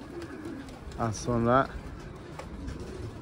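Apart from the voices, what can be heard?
pigeons cooing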